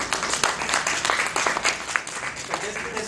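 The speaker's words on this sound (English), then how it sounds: "So give me a big round of applause." Brief burst of audience applause and clapping in a business training session on gamification, moderately loud with scattered voices mixed in.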